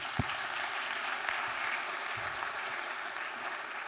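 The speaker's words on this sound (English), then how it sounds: "So let's give them a round of applause." Steady audience applause at a business conference session as speakers are welcomed onstage, continuous clapping at moderate level with a low thump near the start.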